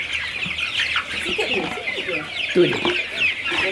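Village crossbred chickens on a Malaysian agro farm cluck and chatter in a dense, continuous chorus, close and busy throughout, while people speak briefly in the middle of it.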